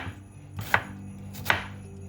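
A knife chops through an onion on a board in two sharp, close strikes spaced evenly, with no one talking.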